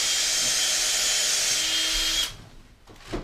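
Power drill boring a vent hole into a rubber RC car tire, a loud steady high whine for about two seconds before it stops abruptly, followed by faint handling noises.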